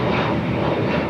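Airliner engines roar at full thrust on takeoff from runway 25 right at LAX, a loud, steady, broadband rumble heard alone for the whole brief moment.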